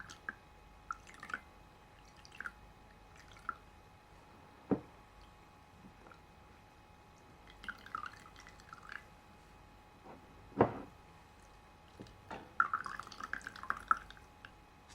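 Scattered water drips fall one by one during a dermatologist skincare roleplay, quiet and close with irregular spacing and a few soft wet clusters near the end.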